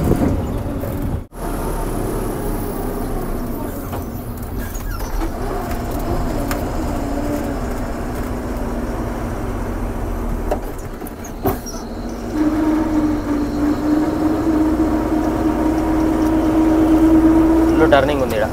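A truck engine laboring up a winding ghat road in Madhya Pradesh, a steady loud drone that rises in pitch near the end as the driver shifts down through the gears, with someone talking over it.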